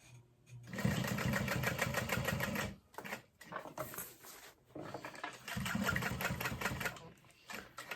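Sewing machine stitching a box stitch on a backpack handle at a long stitch length, two sustained bursts of rapid mechanical whirring and needle chatter separated by brief pauses and fabric handling.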